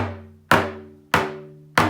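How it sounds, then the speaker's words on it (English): A spoon taps a lollipop hand drum three or four times at a steady pace, each strike sharp and close, leaving a short resonant ring between hits. "I could take my spoon and I could tap it."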